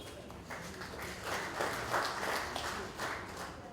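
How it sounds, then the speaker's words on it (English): Audience at a Nigerian Ministry of Energy and Mineral Resources press briefing breaks into steady applause, a dense wash of clapping that swells and holds for several seconds at moderate distance. "the ministry deserves a round of applause"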